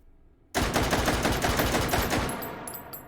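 A SKS carbine in H3VR fires 7.62x39 rounds in quick succession, a loud, rapid string of sharp cracks starting abruptly after a brief quiet and running almost to the end, with no talking.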